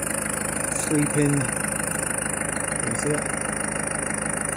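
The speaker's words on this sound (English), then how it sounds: "The engine's running" A 2001 Peugeot Boxer 2.8 HDI diesel engine idles steadily and loudly throughout, a constant rumble with brief speech over it.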